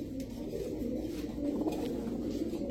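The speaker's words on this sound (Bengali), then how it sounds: "নর না মাদি নর নর কবুতর বাচ্চা এরা" Young male pigeons at a pigeon market coo continuously in soft, layered murmurs, heard faintly at a distance with a low crowd hum beneath.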